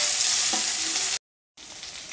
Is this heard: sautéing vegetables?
yes